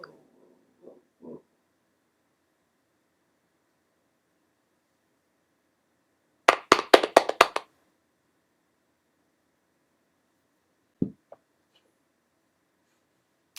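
Brief burst of clapping from a virtual poetry open mic, about a second of quick, close claps standing out against near silence, with a few faint knocks before and after.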